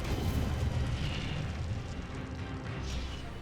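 Incendio fire spell cast in Hogwarts Legacy: a dense, continuous roaring whoosh of flame with a rumbling low end, loud and sustained for several seconds.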